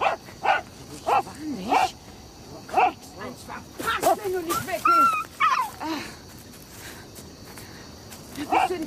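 A dog whimpers and gives short barks in a series of brief yelps, while someone speaks angrily and footsteps and crickets sound faintly in the background.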